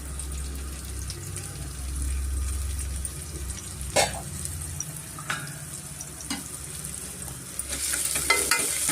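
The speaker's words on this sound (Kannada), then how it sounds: "ಅದನ್ನು ಸ್ವಲ್ಪ ನಾವು ಫ್ರೈ ಮಾಡ್ಕೊಬೇಕಾಗುತ್ತೆ ಎಣ್ಣೆಯಲ್ಲಿ" Chopped onion frying in a spoonful of oil in a pan, a soft steady sizzle with a few sharp clicks of stirring, close and alone with no talk.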